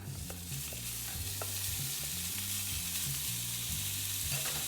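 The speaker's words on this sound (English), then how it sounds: "we've got our mixture of ground beef and mild Italian sausage right in here. So we're just going to go ahead and dump that into the pan" Ground beef and mild Italian sausage sizzle in a pan in a steady, even frying hiss, with a few faint clicks from stirring and a low background hum. Nobody speaks.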